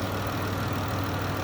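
A 2015 Dodge Caravan SE wheelchair van idles with its hood open, its 3.6-liter V6 giving a steady, smooth, low hum with no noticeable misses, heard up close.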